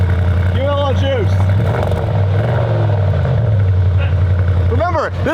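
A Bentley GT3 race car fitted with an aftermarket exhaust gives short, sharp throttle blips over a deep, steady idle, with voices talking over the engine.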